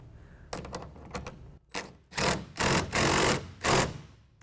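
A large clamp is tightened onto a 2014 Chevy Silverado truck bed rail while a Gator SR2 roll-up tonneau cover is installed: a few quick metallic clicks, then a run of loud, close rattling bursts with short pauses between them.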